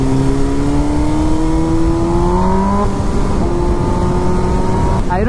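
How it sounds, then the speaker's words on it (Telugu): BMW S1000RR superbike fitted with a full Akrapovic exhaust system, revving loud and close with a rising engine note that climbs, falls back and surges again. "ఇంత లౌడ్ సూపర్ బైక్ వాడి దగ్గర ఫస్ట్ టైం అనమాట"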